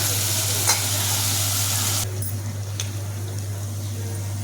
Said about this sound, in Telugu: కొంచెం సేపు నూనెలోకి వెళ్ళాక బీరకాయ ముక్కలు వేస్తా.